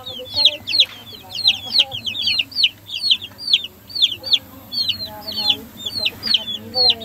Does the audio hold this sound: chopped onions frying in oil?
no